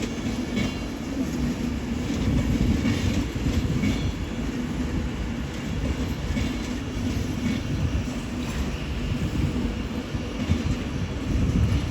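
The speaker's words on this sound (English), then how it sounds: "Soon to arriving now is 390-001 with a terminating Avanti West Coast service from Manchester, Piccadilly" A Class 390 electric train rumbles steadily into London Euston station, a loud continuous low roar with occasional rail clicks and faint squeals throughout.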